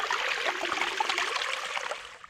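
Water from a forest stream flowing steadily, a bright rushing trickle with bubbling detail, moderately close and alone, fading slightly at the end.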